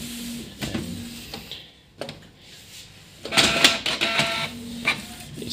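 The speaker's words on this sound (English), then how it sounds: "it's printing the test page" A Canon G3010 inkjet printer runs a test page after an ink flush: bursts of mechanical whirring and clicking, with the print head shuttling and paper feeding, growing busier and louder in the second half, close by with no talk.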